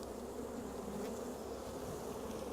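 Honey bees poured into a jar for a sugar-shake check for external parasites buzz in a dense, steady swarm hum that stays close and continuous throughout, with no talking.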